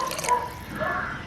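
Water trickles and drips into a pan of sugar to make the sweet syrup for Jaffna chippi snacks, a faint, brief splashing in a quiet kitchen.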